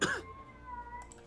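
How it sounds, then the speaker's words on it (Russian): A loud cat gives a single short meow right at the start, then falls quiet while faint steady electronic tones hum in the background. "Очень громкая кошка."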